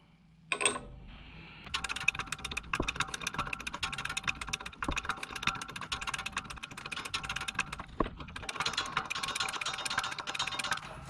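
A press works a control arm bushing out into a socket-and-cylinder setup, beginning with one sharp knock and then a long run of dense metallic clicks, ticks and creaks with occasional louder snaps, close and steady.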